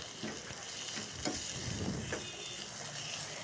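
Onion, green chili and curry leaves sizzling in hot oil in a pan, a soft steady fry with a few scraping stirs of the spoon, close and quiet, no talking.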